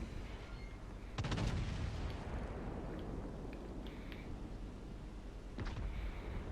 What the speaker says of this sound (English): there's something broadside on, so you load AP